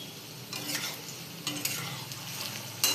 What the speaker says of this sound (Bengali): একটু ভালো করে লাল লাল করে ভাজতে হবে।